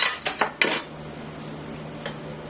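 A metal tablespoon clinks against a bowl as relish is scooped into potato salad: a quick burst of four sharp taps, then one lighter tap after a pause, close and clear with no talking.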